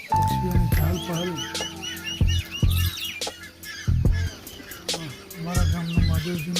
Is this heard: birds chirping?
yes